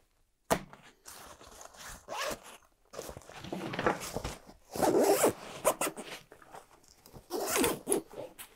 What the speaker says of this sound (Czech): Na straně blíže k zádům tak je ještě tato malá přihrádka uzavřená zipem